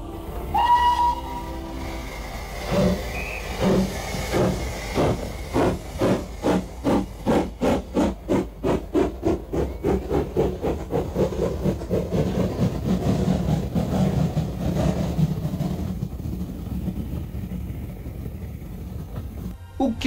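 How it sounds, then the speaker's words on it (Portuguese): A steam train sound effect: rhythmic chuffing that speeds up into a steady rolling beat, with a loud steam whistle blast at the start and hissing steam throughout, close and loud. "O que você ouviu? Um som de trem."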